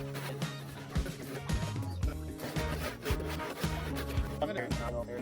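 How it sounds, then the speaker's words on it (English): A hand saw cuts along a marked line in timber during a timber framing class, with regular back-and-forth rasping strokes about once per second, close and moderately loud. "once I've got a track established, I'm gonna go as far as I can to touch the line with the saw teeth"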